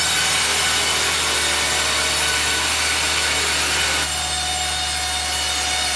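Sawmill saw cutting wood into planks, a dense continuous rasping roar with a low steady machine hum beneath, loud and close for the whole stretch, with no speech.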